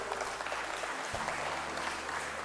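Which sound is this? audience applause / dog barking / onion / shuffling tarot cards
audience applause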